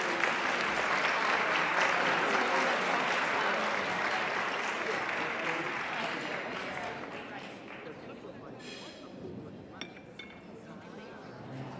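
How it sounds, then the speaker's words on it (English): Applause at an evening charity gala fills the room after an awards segment, loud and continuous, then gradually thinning as scattered claps and a few clinks of glasses and dishes emerge near the end, with murmured voices underneath. "another round of applause for everyone"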